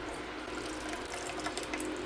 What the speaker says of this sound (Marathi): मी हे सगळं ओतून घेते मी हे पूर्ण चाळणीमध्ये असं ओतून घेतलं